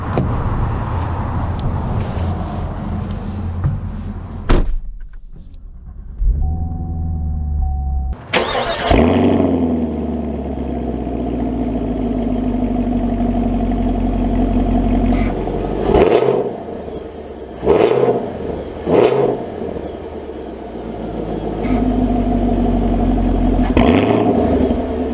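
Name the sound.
2023 Chevy Camaro SS driving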